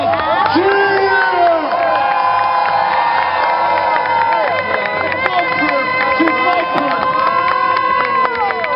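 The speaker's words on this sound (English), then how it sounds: "I want to hear you guys cheer." A crowd at a car and bike stunt show cheers and shouts loudly, with children's voices and whoops rising and falling over a steady roar, continuing for several seconds.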